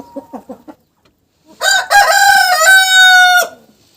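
A Cochin rooster crows once, loud and close, a long strained call that follows a few quick soft clucks and a brief pause.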